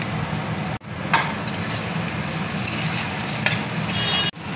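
Chopped carrots hitting hot oil in a pan already holding minced garlic and onion for instant noodles, giving a steady, loud broadband sizzle with stirring scrapes, two brief dropouts, and no talking.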